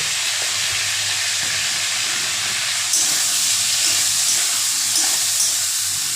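Spices sautéing in hot oil for a fish curry with vegetables, a loud, dense, continuous hissing sizzle close by that holds steady throughout.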